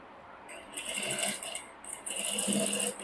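A sewing machine stitches the front part of a four-dart blouse, running in rapid rattling bursts with short pauses between runs, close up and moderately loud.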